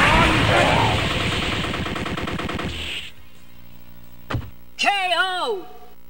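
War Machine's shoulder cannon firing in Marvel vs Capcom on Dreamcast: a loud, dense burst of rapid-fire blasts for about three seconds that cuts off, followed by a short impact and a brief synthetic game voice.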